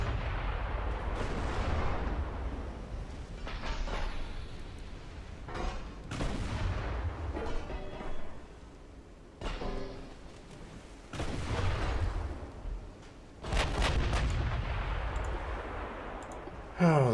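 Heavy battleship main guns fire in salvos in the naval video game Ultimate Admiral Dreadnoughts, several deep booming volleys separated by short pauses, each trailing off in a rumbling roll.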